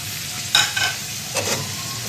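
Two chopped onions hit a cup of hot cooking oil and stirred for aloo methi, a sharp sizzle burst followed by scraping stirs and crackling, close and loud with no talking.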